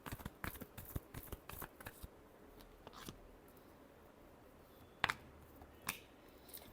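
Tarot cards are shuffled by hand in a rapid burst of crisp riffling flicks, then a pause and a few sharp isolated snaps and taps, close and quiet with no speech.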